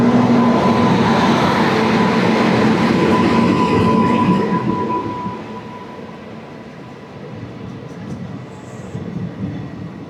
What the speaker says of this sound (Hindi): बीकानेर से चलकर दिल्ली सराय रोहिला जाने वाली बीकानेर एक्सप्रेस।